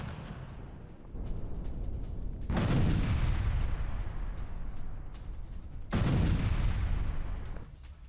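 Explosions in Gaza, including an IED blast set off by the Israeli army: two heavy, close booms a few seconds apart, each rolling into a long rumbling decay, with no talking.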